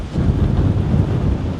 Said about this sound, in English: Some real gusts coming through here at the moment.